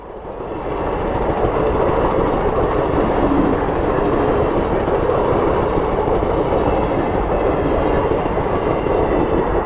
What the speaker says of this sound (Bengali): লালগোলা শিয়ালদা ট্রেন যাচ্ছে।